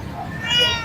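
A traditional Persian cat meows briefly at a busy pet market, a single rising cry heard under a person talking nearby.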